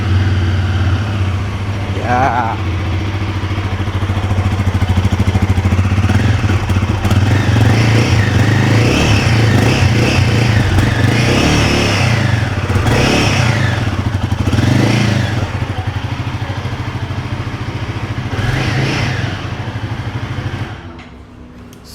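A Royal Enfield Guerrilla 450 motorcycle engine idles with a deep, steady rumble, then revs up in several rising bursts before settling and cutting off; a voice briefly speaks.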